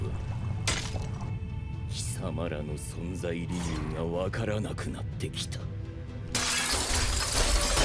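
Glass shatters in an episode of the Demon Slayer anime, Swordsmith Village Arc. Voices and music play first, then a loud, sustained crash of breaking glass fills the last couple of seconds.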